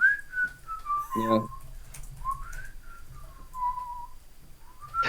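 A person whistles a wandering, improvised tune as stand-in incidental music, the notes sliding up and down in short phrases, with a brief spoken word partway through.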